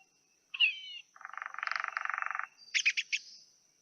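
A woodpecker calls in a forest: a sharp squeaky note, then a buzzy pulsed rattle and a few quick loud chattering notes, close and clear against silence.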